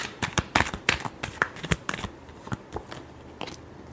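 Tarot cards shuffled by hand in a quick burst of crisp riffling snaps and flutters, loudest early then thinning into sparser slaps, close up with no talking.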